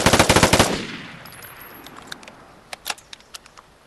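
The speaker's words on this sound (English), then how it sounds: "M4A1 assault rifle." An M4A1 assault rifle fires a rapid automatic burst in the video game Vigor, loud and close, then the echo decays and scattered metallic clicks and shell clinks follow.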